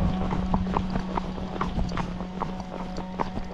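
Tennessee Walking Horse hooves clip-clopping on a trail at a steady walking rhythm, close and moderately loud, with a low hum and light wind in the background.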